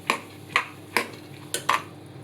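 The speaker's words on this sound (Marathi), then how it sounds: "सगळी मटकी मी टाकलेली आहे आणि थोडीशी हलवते आहे" Moth beans (matki) coated in masala are stirred in a pan over a very low flame, five distinct scraping knocks of a spoon against the pan at an uneven pace, close and clear over a quiet background.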